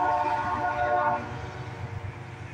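A northbound CSX intermodal freight train in Springdale, Ohio sounds a loud horn blast, which cuts off after about a second and leaves the low, steady rumble of the passing cars.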